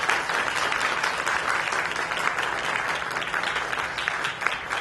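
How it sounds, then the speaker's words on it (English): Steady applause fills a convention hall of naturopathic medicine attendees, a continuous dense wash of clapping lasting several seconds without speech. "let's all give a round of applause to Dr."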